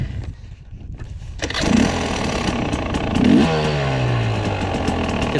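A 2018 carbureted 300XC two-stroke dirt bike engine runs loud and close, rising into a couple of throttle blips with a falling whine after the second rev.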